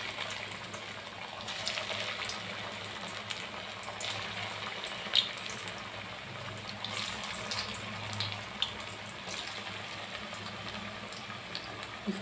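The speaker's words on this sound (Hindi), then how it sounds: "अब मैं इसे तलने जा रही हूँ।" Potato pakoras frying in hot oil, a steady broadband hiss and sizzle with occasional small pops, even and moderately loud throughout with no talk.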